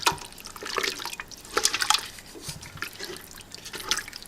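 Leaf lard boiling down as it renders in a pan, giving a steady close bubbling and spitting sizzle with scattered sharp pops and crackles throughout, no voices.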